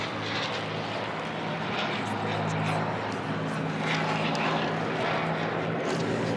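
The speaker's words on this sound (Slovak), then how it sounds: "No a my môžeme sledovať ďalej vystúpenie Mustangu v typických amerických farbách." A P-51D Mustang propeller fighter in American markings flies a display at an air show, its engine giving a steady, continuous roaring drone throughout, with faint voices underneath.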